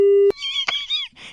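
A phone call ends with a steady electronic beep that cuts off abruptly, followed by short synthetic tones and a brief burst of noise.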